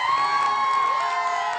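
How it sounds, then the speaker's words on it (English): Small crowd cheering loudly around a court in the Tennis Ace video game, a sustained, even wash of cheers and whoops holding steady throughout the short moment. "A small crowd that has gathered around our court starts to cheer loudly once more."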